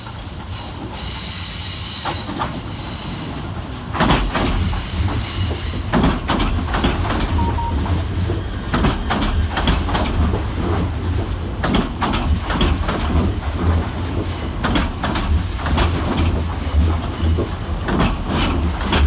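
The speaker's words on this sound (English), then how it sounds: "Arriving to terminate with a C2C service off of London is 357032 and 357030." C2C class 357 electric units 357032 and 357030 roll into London Fenchurch Street terminus, a steady loud rumble of wheels and carriages with squealing flanges and clicking over rail joints, sustained close by throughout.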